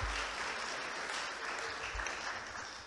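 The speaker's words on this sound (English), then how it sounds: "just give them a round of applause for being here with us this morning" Audience applause greets a bass clarinet trio at a morning performance, a steady, dense wash of clapping that holds fairly even for the whole stretch without voices on top.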